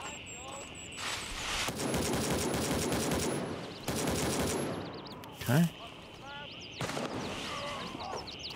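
Gunfire in the extraction shooter Gray Zone Warfare, long bursts of rapid automatic fire and scattered single shots, fairly loud, with a player's voice breaking in between volleys.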